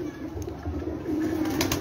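A champion pigeon's mother coos on a rooftop loft, a low soft throaty murmur close by, with faint outdoor ambience around it.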